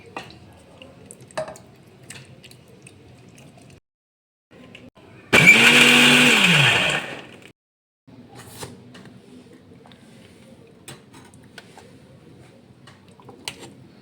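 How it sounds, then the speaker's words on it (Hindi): A kitchen mixer grinder whirs loudly for about two seconds, blending cooled masala and home cream into a paste, its motor pitch sweeping up then down before it cuts off amid quiet clinks. "मिक्सी के जार में ऐड करके"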